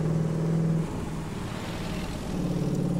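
An '82 Trans Am engine in The Crew 2 revs and hums steadily, dips to a lower drone for a moment, then climbs again, loud and alone with no talk.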